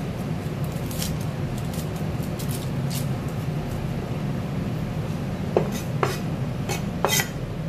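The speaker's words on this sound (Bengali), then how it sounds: "পেঁয়াজটাকে মানে ছোট করে কাটবো" A knife finely chopping onion on a board, faint background hum first, then several sharp, separate chops later on, close by.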